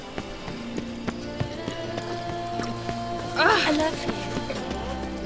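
Hooves of Roach, Geralt's horse in The Witcher 3, clop in a steady trot beneath a spoken voice, with a brief whinny-like burst partway through over soft ambient game music.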